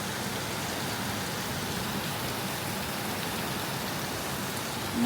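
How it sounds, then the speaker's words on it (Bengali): Heavy rain pouring down, a dense, constant roar of drops on surfaces that holds at an even loudness throughout with no pauses or voices. "অনেক অনেক জোরে বৃষ্টি, খুব সাউন্ডটা ভাল লাগে বৃষ্টির।"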